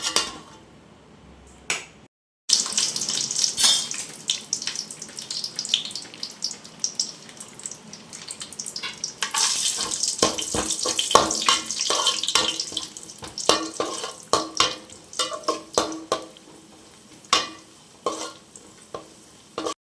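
Onions deep-frying in hot oil for biryani, a dense steady sizzle with clattering stirring and scraping throughout, louder and busier in the second half, no voices.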